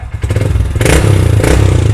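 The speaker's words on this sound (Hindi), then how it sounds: "और जैसे मैं एक्सीलेटर दूंगा" A BS6 fuel-injected motorcycle engine idles with a rattly, thumping beat, then revs up sharply twice as the throttle is opened, loud and close with mechanical clatter.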